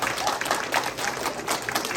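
Applause from an audience at an author storytelling show, with steady, dense clapping that pulses slightly and stays at an even moderate loudness throughout.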